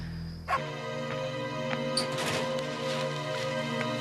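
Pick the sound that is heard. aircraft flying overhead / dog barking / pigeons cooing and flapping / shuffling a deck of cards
dog barking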